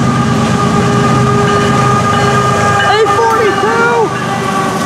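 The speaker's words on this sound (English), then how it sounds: "Nice horn salute there." A CSX freight train rolls past loudly and continuously, with a steady rumble and wheel noise, and a short horn salute sounds near the end.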